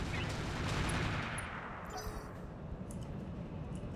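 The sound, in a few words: mech weapons firing in BattleTech video game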